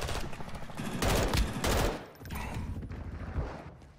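Rapid video game gunfire from a Call of Duty online match, loud bursts of shots and explosive crackle running through the whole stretch, with heavy bursts near the middle and continuous game noise around them.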